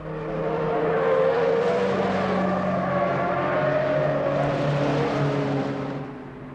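Magpie rally car engine running in 1977: a loud, steady mechanical drone with a sustained pitch that swells and holds, then fades slightly at the close.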